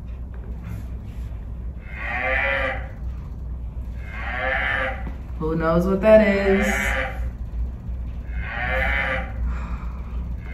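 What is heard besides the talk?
cow mooing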